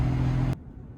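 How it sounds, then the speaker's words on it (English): A Mercedes-AMG GT53 engine idles with a steady low, rich hum for about half a second, then cuts abruptly to a much quieter, faint background rumble. "And the idle is super cool too."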